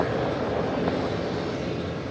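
A heavy aircraft at LAX airport, heard as a loud, steady broadband engine roar that holds at a constant level throughout with no talking.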